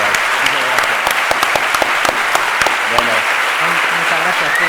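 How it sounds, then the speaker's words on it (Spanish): Crowd clapping at a film presentation event, with sharp individual claps over a steady wash of applause and murmuring voices underneath. "si un aplauso ayuda un poquito más"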